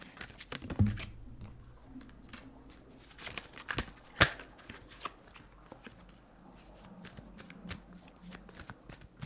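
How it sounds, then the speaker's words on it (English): Tarot cards being pulled and shuffled in a quiet ASMR reading, soft riffling bursts and crisp snaps close up, with faint speech in places. "I'm just going to pull some tarot cards on this"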